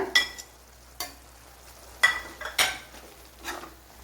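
Fried prawns being stirred into a frying masala in a pan, a few separate sizzling scrapes and clinks of a spoon against the pan with quiet pauses between.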